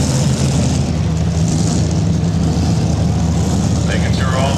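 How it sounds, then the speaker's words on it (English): Pulling tractor engine revving at a truck and tractor pull, a loud, steady, heavy low-pitched roar that fills the scene continuously, with an announcer talking over it. "Making sure all the cylinders are firing up."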